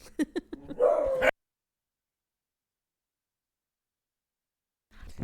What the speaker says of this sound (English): the neighbor's dog's from 2 doors down